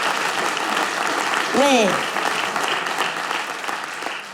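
An audience breaks into sustained applause, a dense, even clapping that stays steady throughout, while a brief voice speaks over it.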